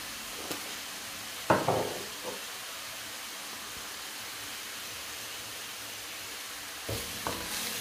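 A stuffing mixture of seasoned filling with salt and pepper is stirred in a hot pan, with a few scraping strokes of a utensil against a steady low sizzle, otherwise quiet.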